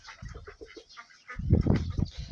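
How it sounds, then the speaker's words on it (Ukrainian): Soft clucking and chirping from a group of chicks and guinea fowl keets nearby, eating weeds, growing busier and louder toward the end. "Так, курчата, цесарята, качки. Ходять, принесли їм бур'янцю, їдять."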